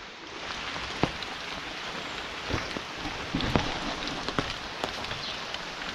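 Steady rain pouring since the night, heard on an early morning outdoors, a dense even hiss with scattered louder drops and drips tapping nearby surfaces, no one talking.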